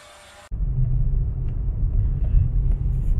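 A car driving through city streets, a steady low engine and road rumble filling the interior after a brief quieter moment at the start, continuous and fairly loud with no talking.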